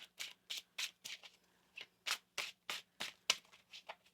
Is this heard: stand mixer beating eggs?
no